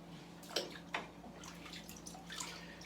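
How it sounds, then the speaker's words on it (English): Trumpet parts get rinsed under running water, a soft steady flow with a few splashes and drips close by, quiet and without talking. "Rinse it out a little."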